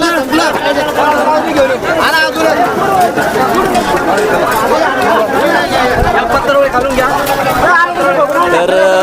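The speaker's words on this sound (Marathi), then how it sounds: "बघू शकता तुम्ही किती गर्दी या ठिकाणी झालेली आहे महायज्ञामध्ये" A large crowd fills a village mahayajna dining pavilion, dense overlapping chatter and babble close by, steady and loud throughout with many voices talking at once.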